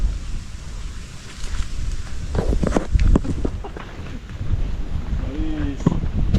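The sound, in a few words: wind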